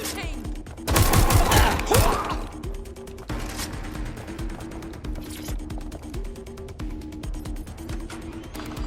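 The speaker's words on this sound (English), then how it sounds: "Suspect is shooting!" Loud burst of gunfire from a shooting suspect in Watch Dogs Legion, a dense volley for about a second followed by scattered, clicking mechanical noises and lighter shots under a steady game background.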